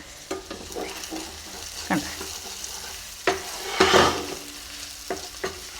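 Chicken liver cooks in a thick Kerala-style masala in a pan, with soft sizzling under repeated spoon scrapes and stirs, close and fairly quiet, and a single brief word spoken midway.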